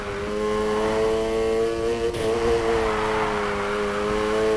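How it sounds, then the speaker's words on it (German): A game car in Need for Speed Heat howls at full throttle through a drift, its engine revving steadily and loudly with strong harmonic tones throughout, alone with no talk. "Gib kurz Vollgas und lenk ein. Und geh dann wieder aufs Gas."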